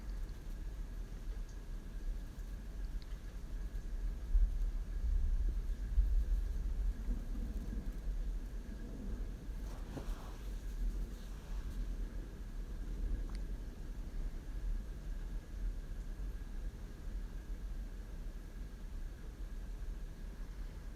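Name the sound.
thunderstorm with thunder and rain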